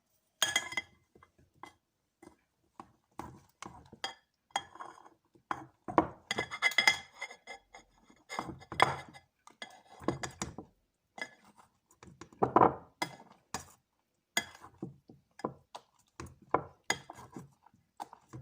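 A ripe banana is crushed with a utensil in a bowl while making kiwi fruit leather, a string of irregular clinks, taps and soft squishes scattered through the quiet.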